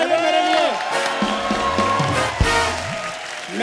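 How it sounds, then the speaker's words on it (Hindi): A studio audience at The Kapil Sharma Show, an Indian TV comedy show, claps and cheers in a steady burst, with voices and background music running under the applause. "जोरदार तालियां मेरे लिए"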